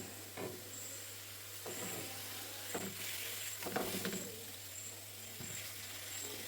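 Mackerel frying in a pan gives a steady, faint sizzling hiss, broken by a few soft scraping and stirring knocks, with a low constant hum in the background.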